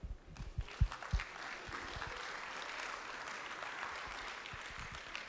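Audience applause at a charity fundraising program, a few sharp opening claps swelling into sustained, fairly distant clapping from a crowd that continues evenly to the end.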